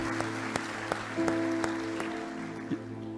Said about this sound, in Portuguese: Aplaude ele por isso.